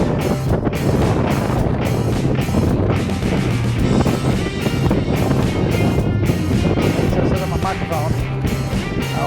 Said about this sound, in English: That wind does get you.